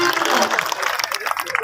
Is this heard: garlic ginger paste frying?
no